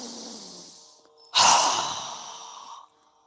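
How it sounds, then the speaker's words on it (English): A strong, forceful exhale through the mouth during a seated yoga breathing exercise: a loud, breathy rush lasting over a second that slowly fades, following a softer inhale, with no talking. "we're going to exhale with a strong breath as we exhale through our mouth"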